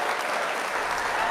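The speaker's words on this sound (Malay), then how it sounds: "Berikan tepukan gemuruh kepada beliau." An audience applauds warmly to welcome a panelist at a live career talk session, with thick, even clapping from many people filling the short moment.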